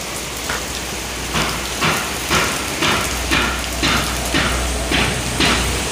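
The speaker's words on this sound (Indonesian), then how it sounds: "Hujan terus." Steady rain falls near a Fuso truck on the road, a dense hiss with a regular beat of louder drips or patters running through it.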